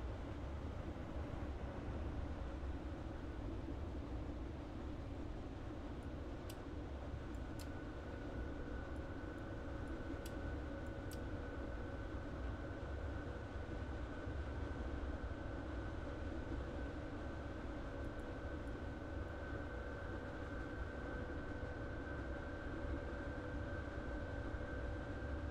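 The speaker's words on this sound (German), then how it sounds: "Da ist eine S-Bahn" An S-Bahn commuter train in Train Sim World running near Berlin Gesundbrunnen on the airport express line, heard as a steady, continuous rumble with a sustained tonal whine, plus a few brief clicks partway through.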